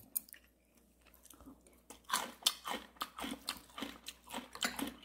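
Someone chews crunchy mustard leaf kimchi during a winter fireplace home camping meal, with close, repeated crisp bites in a steady rhythm and soft voices now and then.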